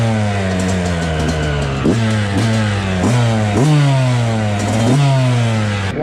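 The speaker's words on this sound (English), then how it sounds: "Gonna take it easy though, gotta warm up the bike." Yamaha YZ 125 two-stroke dirt bike engine warming up after a rebuild, running loud and close with a buzzy idle and five or six quick blips of the throttle.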